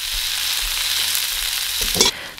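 Shrimp land in a hot pan with onions and sizzle in a dense, steady hiss up close, with a brief stirring clatter near the end.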